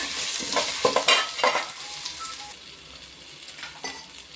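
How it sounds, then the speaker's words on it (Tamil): Ginger garlic paste sautéing and being stirred in a hot pan for vegetable biryani, a steady sizzle with scraping stirs and a few utensil clinks near the start, then a quieter fry. "இப்போ இஞ்சி பூண்டு பேஸ்ட்டு போட்டுக்கலாம்"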